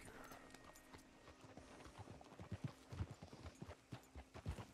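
Horse hooves in Red Dead Redemption 2 clip-clopping at a steady walking pace, distinct thuds close by, with a faint background hum.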